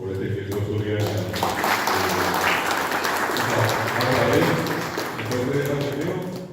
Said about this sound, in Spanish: quiero pedir para los directores y directoras un aplauso por este gesto de solidaridad